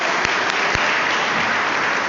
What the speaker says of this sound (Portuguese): Se você entendeu isso, aplauda ao Senhor, porque Ele é digno nessa noite.